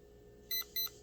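Two short, high electronic beeps sound in quick succession from a nearby RC car electronic speed controller during programming, with nothing else but faint background hum.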